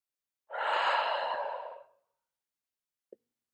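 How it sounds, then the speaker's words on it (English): A single deep breath, a long, full exhale lasting over a second, taken during Pilates on a foam roller, followed by a brief soft click after a pause. "we're just going to begin by taking a few deep breaths here"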